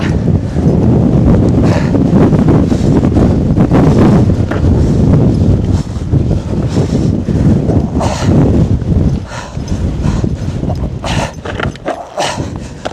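Strong, continuous wind buffets the microphone during a steep mountain bike climb around Wellington, a loud low roar with gusty surges and rustling, easing slightly toward the end.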